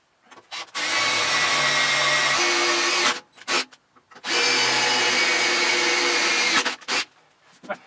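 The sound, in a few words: drill tapping threads in sheet metal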